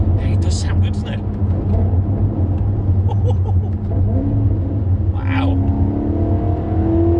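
A Maserati fitted with a Ferrari V8 engine revs and pulls hard, its deep engine rumble steady and close throughout as the pitch climbs through the rev range, with a brief exclamation from the driver over the engine noise.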